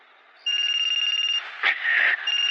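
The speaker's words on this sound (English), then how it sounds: "my peaceful slumber was interrupted by a phone call" A telephone rings at night in an animated scene, a fast electronic trilling bell in a single long burst followed by a short rustling disturbance, loud and close with no speech.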